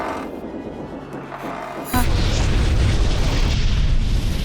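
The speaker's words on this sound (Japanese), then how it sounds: "何かの拍子に爆発してしまいましたね" A video-game explosion on a modernised battleship: a sudden loud boom cuts in and rolls on as a sustained roaring rumble, following quieter sound with faint voice.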